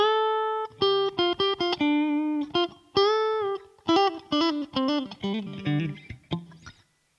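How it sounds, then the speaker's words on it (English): Electric guitar plays the opening of a song's final solo, a sustained bent note followed by rapid picked melodic runs, clear and close with no voices. "Okay, so we now go on to our final guitar solo."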